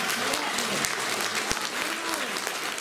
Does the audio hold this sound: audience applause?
yes